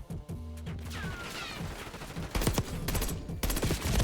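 Rapid bursts from an AEK 973 rifle in a Black Ops 6 multiplayer match, several clustered cracks firing close and loud, with quieter game ambience and distant shots around them.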